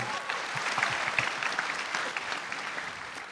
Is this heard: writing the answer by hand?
no